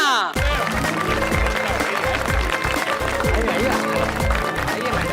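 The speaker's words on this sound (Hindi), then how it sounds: "तो एक बार इनके लिए जोरदार तालियां।" Audience applause breaks out for visiting company representatives at a Navratri gathering in a housing society, a dense, loud wash of clapping mixed with crowd noise and bouncy music, with voices under it.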